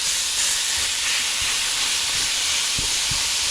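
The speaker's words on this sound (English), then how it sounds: "We're gonna put this hamburger meat down first, and we're gonna get this cooked all the way through." Hamburger meat browning in a pot on a stove burner for chili, with a loud, continuous hissing sizzle and a few dull low knocks near the end.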